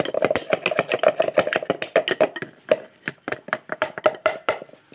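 Natural material is pounded by hand to make brown colouring: a fast, steady run of sharp, close thuds, several per second, briefly pausing midway before resuming.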